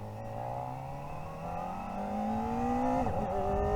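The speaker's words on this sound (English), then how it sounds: "This thing, if you give it too much throttle right off the get-go, it's going to throw you back a little bit" Kawasaki Ninja ZX-4RR, a small-displacement inline-four sport motorcycle, revving under throttle with a steadily climbing engine pitch, then a brief dip as it shifts through the quick shifter, loud and close with no talking.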